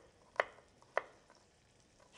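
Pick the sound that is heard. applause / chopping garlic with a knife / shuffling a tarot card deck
chopping garlic with a knife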